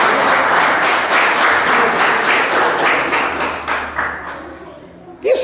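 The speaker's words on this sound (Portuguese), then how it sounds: "Tá louco, Ele merece as palmas." A church congregation claps together in a sustained, dense round of applause that fills the space, thinning and fading toward the end before a brief louder thump.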